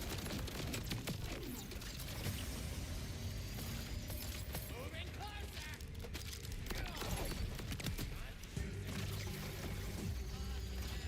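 Rapid gunfire fills a Borderlands 4 firefight, dense crackling bursts layered over one another with voices talking beneath the shooting.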